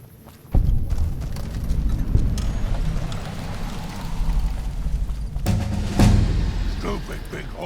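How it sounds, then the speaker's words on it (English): Heavy clip-clop of a horse's hooves in the video game Fallout: New Vegas, a loud start followed by steady plodding steps with rumbling thuds, under some speech. "Stupid big horse."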